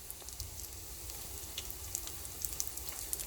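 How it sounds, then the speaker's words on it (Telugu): Cumin, lentils, garlic and dried chilies frying in oil, giving a steady low sizzle with faint crackles and pops throughout, close and fairly quiet, with no voices. "ఆయిల్ వేసి అన్నీ విడివిడిగా వేయించుకోవాలి."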